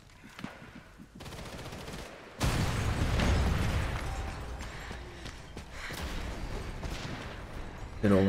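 Explosions and gunfire in the Sniper Elite 5 video game: a loud blast lands suddenly after quieter sputtering, followed by sustained rumbling debris and crackle, with another sharp burst right at the end.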